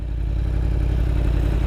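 A 2016 Yamaha R1 sport motorcycle's engine runs steadily nearby, a dense mid-pitched drone with a fast, even pulsing throb and a faint mechanical clatter, with no one talking.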